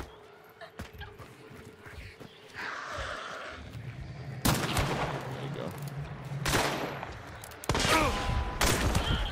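Gunshots in a midnight-robbery video game, several sharp reports scattered across the scene amid game ambience, with a player talking over it.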